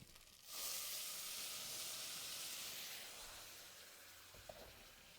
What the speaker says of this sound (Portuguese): Então a gente vai pôr um pouquinho de água aqui.